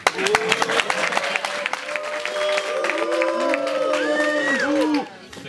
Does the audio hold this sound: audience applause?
yes